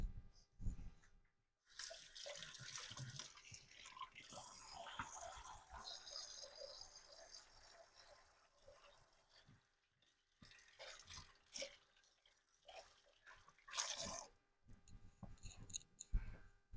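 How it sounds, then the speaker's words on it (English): Hands are washed under a running kitchen tap while making homemade ice cream, a steady splashing water stream with brief pauses and changing spatter, close and moderately loud, with no talking. "Now I'm just gonna wash my hands quick"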